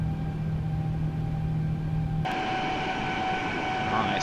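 A simulated Boeing 787-9 airliner in United Airlines livery climbs out of Denver after takeoff, a steady engine roar and whine that shifts abruptly midway to a broader, hissier rush.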